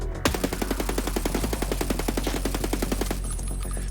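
An AK rifle fires in Escape from Tarkov, a sustained fully automatic burst of roughly two dozen rapid, evenly spaced shots, loud and close, ending abruptly.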